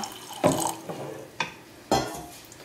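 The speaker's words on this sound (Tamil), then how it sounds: "இப்போ இது முங்குற அளவுக்கு தண்ணி ஊற்றிக்கணும்" Water poured from a tap or vessel into a cooking pot of black-eyed peas for a Tamil curry, heard as several short, close splashing gushes separated by brief pauses.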